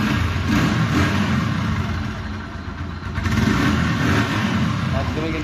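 A used motorcycle's engine runs steadily nearby, idling with a slight rev in the middle, while someone talks over it.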